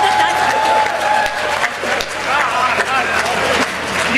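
Loud, dense applause from a large crowd at an Urdu poetry mushaira, sustained throughout with steady clapping and some cheering mixed in.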